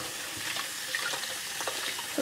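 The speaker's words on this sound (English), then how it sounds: "I have to clean my hand off now. Try not to let any of the clay go down the drain." Tap water runs steadily into a sink while clay is rinsed off hands, a continuous close splashing hiss with small shifts in flow and a louder gush at the very end.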